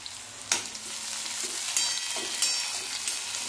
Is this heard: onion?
yes